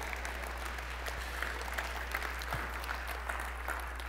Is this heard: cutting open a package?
no